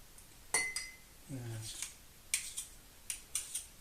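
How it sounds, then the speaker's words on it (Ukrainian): Soft scraping of a spoon against a bowl of sticky cheese batter, with scattered clinks of utensils and a brief murmur of speech in a quiet kitchen. "І другою ложкою отак от вишкрібаємо все"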